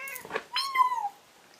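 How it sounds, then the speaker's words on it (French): A pet cat named Princesse lets out a short, fairly close meow with a rising then falling tone, heard on its own without speech. "Et j'ai un chat"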